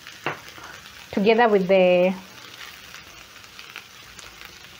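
An eggplant stir fry with basil simmers in a pan, giving a soft, steady sizzle beneath a short stretch of talking.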